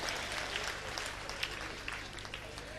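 Applause from a rural audience at a Hindi comic poetry recital, broadband clapping sustained for a few seconds with scattered louder claps, heard alone without talk.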